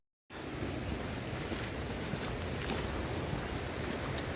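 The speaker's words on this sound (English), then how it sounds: "Nearly at the top, cross the waterfalls" Waterfalls on a Lake District hike give a steady, full broadband rush of water that starts abruptly and holds constant, fairly close and with no voices over it.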